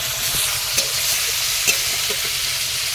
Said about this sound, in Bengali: তেল গরম হয়ে গেছে কড়াইতে আমি এবার দিয়ে দেবো টমেটো টমেটো দিয়ে ভেজে নেব